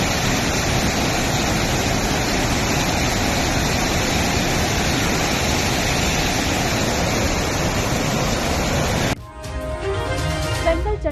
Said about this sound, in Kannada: ನೀರಿನ ರಭಸಕ್ಕೆ ಮಿನಿ ಬಸ್, ಕಾರುಗಳು ಕೊಚ್ಚಿ ಹೋಗಿವೆ.